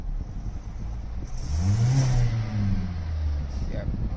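A GDI car engine running on CNG gas with the air conditioning on, idling steadily and then swelling into a brief rev before settling back, heard up close with a low hum throughout.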